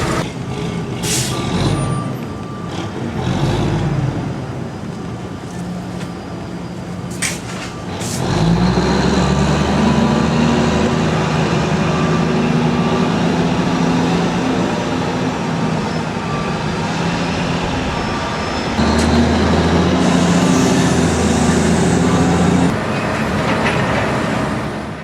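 A 1988 Pacific logging truck working in the Kaingaroa forest bush, its loud diesel engine droning close by with air brake hisses and shifting revs. The engine surges heavily partway through and keeps rumbling steadily to the end, with no voices.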